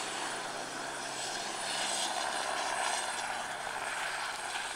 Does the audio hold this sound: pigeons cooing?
no